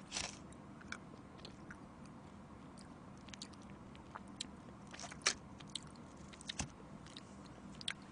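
Someone eats crackers dipped in honey, with soft chewing and sticky mouth sounds punctuated by scattered sharp crunches and clicks, close to the microphone with no talking.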